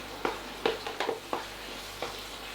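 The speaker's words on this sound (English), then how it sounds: "Let it bubble away, because actually what you're doing now is burning off the alcohol" Minced beef with stock simmering in a pan, giving soft bubbling and sizzling pops with a few louder bursts, close and fairly quiet, with no voices.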